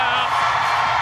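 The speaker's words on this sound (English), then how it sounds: "An enormous cheer for them." A dense arena crowd roars and whoops as a figure skating pair takes the ice at a European Championships pairs short program in Sheffield, a loud, sustained wall of cheering with no pause.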